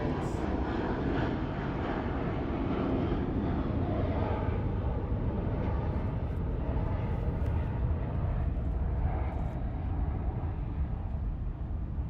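A Delta airliner taxis toward the runway at Los Angeles International Airport, its jet engines making a steady, broad roar that holds level throughout.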